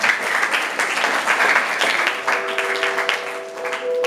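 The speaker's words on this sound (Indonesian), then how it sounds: "Saya boleh tepuk tangan lagi sekali lagi yang semangat." Schoolchildren at an Islamic primary school storytelling event break into sustained, loud group applause that fills the room and fades slightly toward the end.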